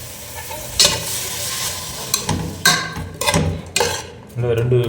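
Sliced onions sautéing in oil in a pan for a mutton lung gravy, with a steady sizzle broken by several sharp scrapes and clatters of a spatula stirring, close and loud.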